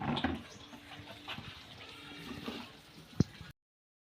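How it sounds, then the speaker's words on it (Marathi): Water runs softly from a tap while dishes are scrubbed by hand, a faint, close trickle and splash with light handling noises and one sharp knock near the end. "आणि मम्मी घासते भांडी, पाणी पण आले"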